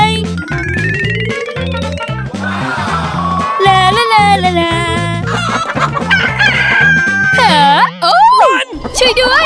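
Cartoon chickens cluck and crow over a bouncy, rhythmic music track with playful boing-like effects, loud and busy throughout, while a voice speaks.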